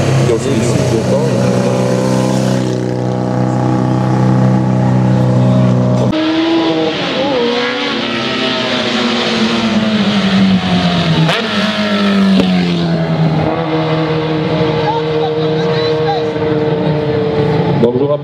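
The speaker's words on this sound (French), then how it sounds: "Voilà les trois BMW là sont passés." Vintage BMW motorcycles race past at a hill climb in St-Cergue, Switzerland, their loud engines rising and falling in pitch as they rev and pass close by. A voice talks throughout.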